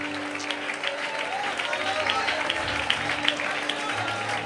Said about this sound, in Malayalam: കമോൺ, അതിനെ കൈയടിക്കാൻ ആരെങ്കിലും ഉണ്ടോ?